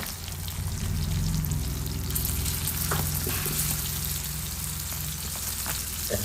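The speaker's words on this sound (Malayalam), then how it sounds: "ഇപ്പം നമ്മുടെ ചാള ഒരു സൈഡ് അത്യാവശ്യം മൂത്ത് വന്നിട്ടുണ്ട്. അപ്പോൾ നമുക്ക് തിരിച്ചിട്ട് കൊടുക്കാം" Sardines frying in a pan, a steady dense sizzle and crackle of hot oil throughout, close and loud, with a few faint clinks of a utensil.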